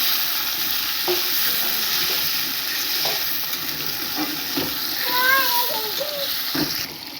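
Tomato sizzles in a pan with onions already fried red, while a utensil stirs and scrapes in short strokes over a steady hiss and a voice briefly talks.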